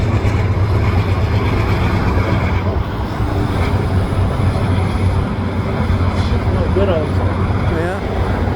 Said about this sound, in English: we have another eastbound freight train